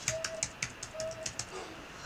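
Password keys tapped on a computer keyboard during a Linux Mint virtual machine setup, about ten light, quick clicks in an uneven rhythm, close and fairly quiet, with a faint tone briefly in the background.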